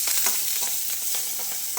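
Garlic and curry leaves frying in hot oil for a tempering, a steady bright sizzle with crackling pops and faint stirring scrapes, close and continuous with no talk.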